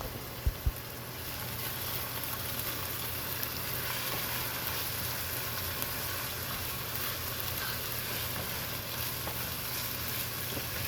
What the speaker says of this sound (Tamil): இப்போ நாம் இஞ்சி பூண்டு பேஸ்ட்டை சேர்த்து 2 நிமிஷம் நல்லா வதக்கிக்கலாம்.